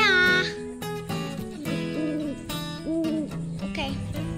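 Owl hoots in an animal-themed segment, given as repeated short tonal calls in an irregular rhythm. They are loud and clear, with no talking.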